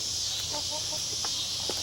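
Chickens from a backyard flock on fermented feed give a few short, soft clucks at moderate distance over a steady hiss of ambient noise, with no talking.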